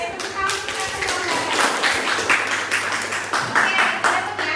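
A class of students claps hands together in a classroom lesson, a dense run of overlapping claps held close and fairly loud for several seconds with some voices mixed in.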